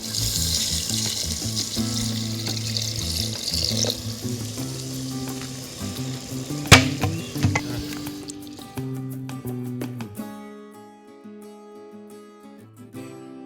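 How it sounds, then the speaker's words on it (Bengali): Water poured from a tap into a pot of sautéed chicken, a loud sizzle and splash that quiets into gentle bubbling as the meat simmers, close by. "আমাদের মাংস কষানো হয়ে গেছে, এবার জল অ্যাড করব।"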